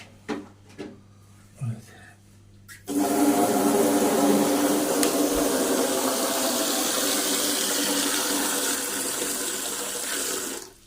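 A tap runs loudly and steadily, filling pet water bowls in a house full of cats, after a few seconds of quiet speech and small clatters. The close, rushing stream continues to the end.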